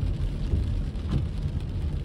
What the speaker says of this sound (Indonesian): hujan yang begitu deras, tidak bisa terlalu cepat dalam mengendarai kendaraan